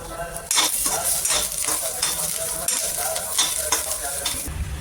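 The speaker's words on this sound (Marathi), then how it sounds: "आता आपण त्यामध्ये दोन तेजपान आणि हे दालचिनीचे तुकडे घेतलेले ते पण टाकून घेऊ आणि थोडासा परतून घेऊ" Onion sautéing in a hot pan with bay leaves and cinnamon pieces for misal, a loud, steady sizzle broken by repeated scraping strokes of a spoon, with no voices.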